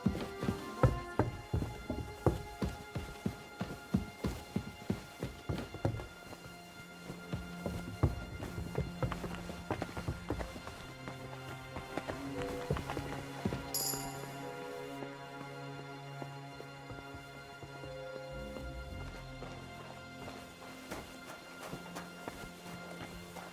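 Horses clip-clop in Kingdom Come: Deliverance 2, a quick, evenly spaced run of hoofbeats at first, then quieter, irregular steps under a low, sustained musical drone and scattered ambient sounds.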